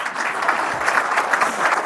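An audience claps at a speech by a government minister, a brief, moderately loud burst of steady applause from many hands.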